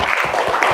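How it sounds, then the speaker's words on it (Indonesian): Applause in a classroom, a short burst of clapping from a group that continues densely and loudly with no voices. "Tepuk tangan untuk kita semua."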